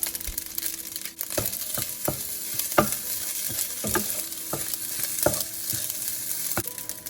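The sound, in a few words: stirring fried rice in a pan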